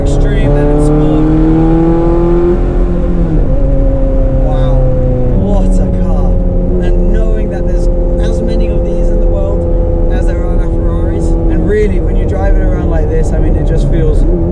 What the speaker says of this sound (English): that sound, we're in race mode right now, so the shifts are a little harder, a little more extreme than in sport